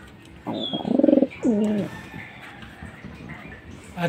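Young pigeon perched and cooing, a few soft throaty coos close by in a short burst, with light background noise.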